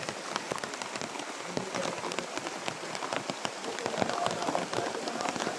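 Heavy rain drums steadily on a surface, dense and continuous patter close by. A faint voice may sit underneath.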